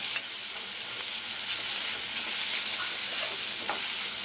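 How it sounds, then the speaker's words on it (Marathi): Ginger-garlic paste sautéing in hot oil tempering for a bottle gourd dish, a steady bright sizzle and hiss with faint stirring scrapes, close and continuous. "आलं लसूण पेस्ट घालून आता चांगलं आपण हे परतून घेऊया।"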